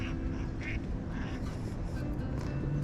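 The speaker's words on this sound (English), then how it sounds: "See you later, ducks." Ducks quack a few times along the Rodeo Lagoon trail, faint and scattered over a steady outdoor background of wind and rushing noise.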